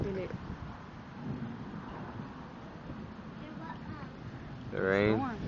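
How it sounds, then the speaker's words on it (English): A low, rumbling roll of thunder with steady rain-like noise, ending in a louder burst where a voice cuts in near the end. "That's thunder."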